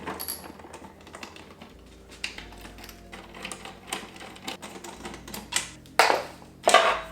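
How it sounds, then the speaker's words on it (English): Screws are being undone to free the wall bracket of a Lectron 48-amp EV charging station, heard as irregular small clicks and taps that grow louder and sharper near the end, with no speech. "So now let's unscrew it so we can remove the bracket."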